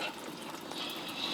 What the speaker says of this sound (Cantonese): 喺呢個星盤度喺水喉就咁飲啦